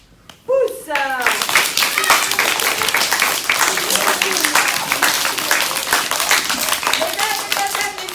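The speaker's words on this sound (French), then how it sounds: "je vous demande d'applaudir très fort Pomme" An audience bursts into loud, steady clapping after a brief voice, the dense applause continuing evenly to the end, with scattered shouts and children's voices mixed in.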